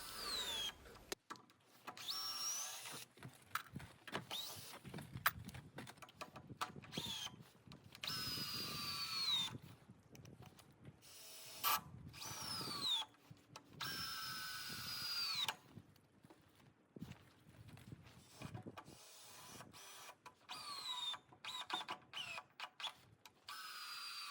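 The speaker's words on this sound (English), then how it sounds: "Our screwdriver here is about, the battery is about empty, so it's kind of struggling with these big screws here." A cordless screwdriver with a nearly empty battery drives long screws while a temporary tent is built, giving repeated short bursts of strained whirring separated by pauses, fairly faint and close.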